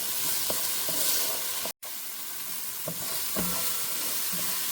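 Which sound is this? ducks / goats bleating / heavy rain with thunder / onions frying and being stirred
onions frying and being stirred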